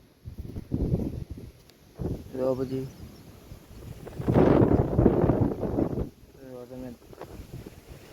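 Strong wind gusts across a rooftop, blowing dust around and buffeting the microphone in loud, rumbling waves, with a person talking between and over the gusts.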